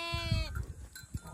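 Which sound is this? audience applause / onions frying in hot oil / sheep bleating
sheep bleating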